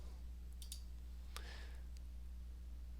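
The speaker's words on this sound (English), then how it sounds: "if I click on Europe Copy" A few sharp computer mouse clicks, close and crisp, over a steady low electrical hum, with no talking.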